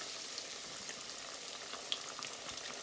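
Battered fish deep-fries in hot oil, a faint, steady bubbling sizzle with a tiny pop near the middle and no voices.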